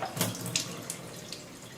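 Water splashing and trickling as the water trap is pulled from a Breville Barista Express espresso machine during deep cleaning, a short close spill with a couple of brief splashes.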